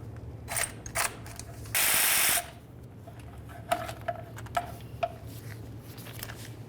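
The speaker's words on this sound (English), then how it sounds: "Now we can start removing our 2 13mm headed mounting bolts" Ratchet clicking as it backs out 13mm starter mounting bolts on a 2010-2013 Ford Transit Connect, with short bursts of metallic ratcheting, a louder sustained rattle near the start and scattered clicks afterward over a low steady hum.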